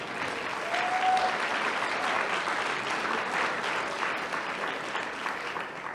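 Sustained audience applause for the Hillsboro High School student drumline at a city State of the City event, a dense steady wash of many hands clapping throughout with no one speaking.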